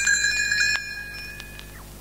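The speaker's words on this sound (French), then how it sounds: "Elle fera tinter ses petites cloches comme ceci." A small bell chimes with a bright ringing tone that lingers and fades, followed by a few lighter tinkling strikes.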